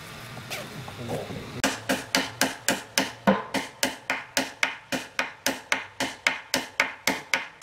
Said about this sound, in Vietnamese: cái này là con búa to chứ